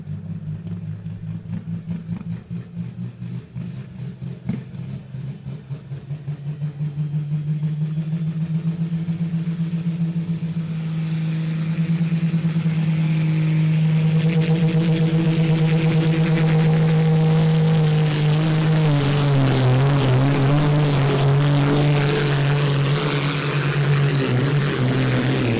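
The Mighty Quinn pulling tractor drives a long, loud engine run at a tractor pull, its deep drone holding steady and then climbing and wavering in pitch as the pull goes on for over twenty seconds.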